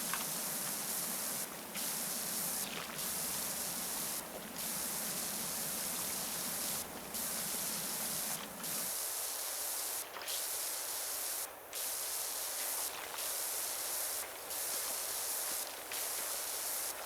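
Steady hissing spray from a soap-loaded pressure washer in PowerWash Simulator, cleaning a gnome fountain, running unbroken with brief dips, the low rumble underneath dropping away partway through.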